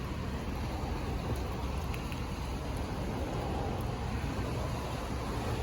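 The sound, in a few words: heavy rain with strong wind at a lake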